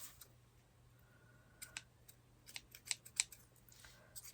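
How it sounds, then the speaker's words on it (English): Faint snips of scissors cut through a strand of string while a vintage scale is being made, a few quiet sharp clicks spaced out in a hushed room. "I am just going to cut that off."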